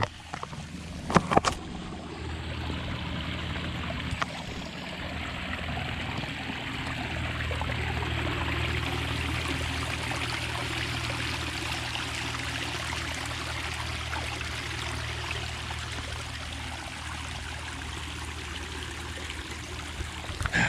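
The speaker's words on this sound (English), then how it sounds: "As I'm splashing along" Wading and splashing through a rocky creek stream on a rainy day, with continuous rushing, trickling water close by, a couple of sharp knocks near the start, and no talking.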